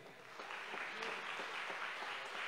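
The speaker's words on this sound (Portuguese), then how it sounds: "Se foi com fé, aplauda mais forte ao Senhor" A church congregation applauds during an evangelical Portuguese-language service, a soft, continuous patter of many hands heard at a distance, with a faint voice underneath.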